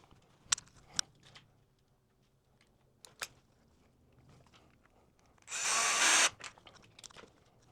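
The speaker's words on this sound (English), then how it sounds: "So I'll continue drilling in" Power drill driving a screw during a splitter kit install on a VB WRX, one short loud whirring burst, surrounded by quiet handling clicks and taps.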